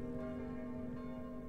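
A church bell rings in the video game Kingdom, a single sustained tone that hums steadily without separate strikes.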